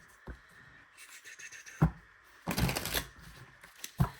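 Tarot cards are shuffled and riffled in quick, soft bursts, with papery snaps and taps recurring at uneven intervals, close by and fairly quiet.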